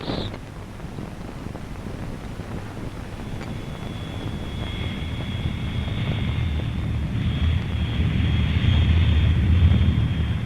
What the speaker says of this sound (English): Another Canberra's back from a photo recce flight over the jungle.